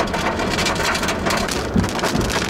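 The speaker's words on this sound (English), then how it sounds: "I think there's a spinning rain curtain coming at me." A spinning rain curtain lashes down during a tornado-warned storm, a loud, dense, unbroken roar of heavy rain close by with a brief thump near the end.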